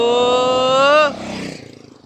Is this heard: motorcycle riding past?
yes